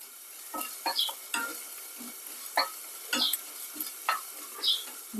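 Spices frying in a pan: coriander seeds, cloves, coconut and garlic. A soft sizzle is broken by repeated scraping stirs at an uneven rhythm, heard close up and alone.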